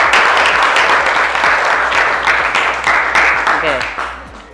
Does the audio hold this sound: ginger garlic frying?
no